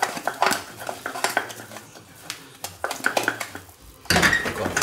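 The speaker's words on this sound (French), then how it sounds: "Il faut touiller." A spoon scrapes and knocks against a saucepan while gnocchi dough is stirred off the heat, irregular close clatters and scrapes, ending in a louder sustained scraping burst.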